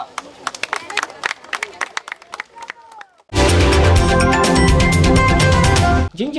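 Sparse individual claps at first, then a sudden loud, dense burst of applause from an audience honouring a children's prize winner, lasting about three seconds before cutting off.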